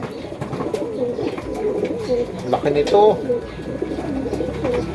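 Pigeons coo at a fancier's loft among racing and show birds, soft repeated coos close by under steady conversation from several people.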